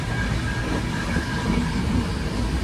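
A running train rumbles steadily, with a low rolling drone and faint rail clatter, heard close up from aboard or beside the carriages with no voices.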